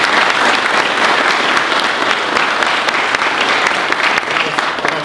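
Audience applause for competitors at a USMC marksmanship competition awards ceremony, dense steady clapping from a large crowd filling the whole stretch.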